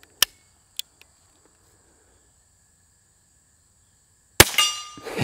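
Two sharp, faint metallic pings from a Chiappa Little Badger .22LR quiet round striking a steel target, each a brief isolated clang at a distance, followed by a louder burst of handling noise.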